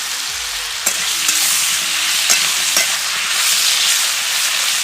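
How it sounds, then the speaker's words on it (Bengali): Potatoes for Bengali aloo do pyaza being stirred in a pan, with a loud, steady, hissing sizzle and a few sharp spatula knocks. "আলু নাড়াচাড়া করে নিয়েছি।"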